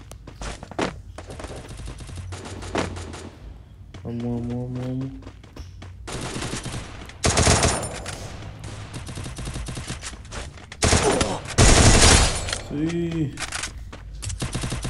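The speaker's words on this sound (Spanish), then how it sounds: "sobre todo los disparos." Gunfire in a shooter video game comes in bursts of rapid automatic shots and single loud blasts, close and punchy, while a player speaks over the action.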